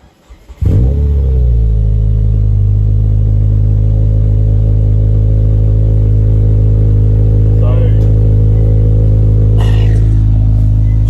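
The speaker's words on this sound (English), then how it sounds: "Start it up. I'll just give you a cold start" A modified Subaru Liberty's engine cranks and catches on a cold start, then settles into a loud, steady idle rumble that holds, with brief faint clicks and rattles near the end.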